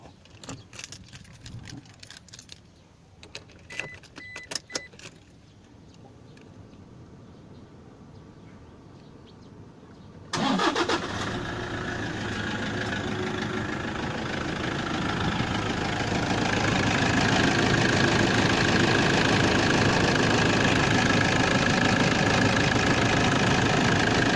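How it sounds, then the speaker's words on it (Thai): A car engine starts at about ten seconds after a stretch of key jingles and faint clicks, then settles into a steady, loud, close idle that holds to the end. "เราลองมา สตาร์ทเครื่องดูนะครับจะเป็นยังไง"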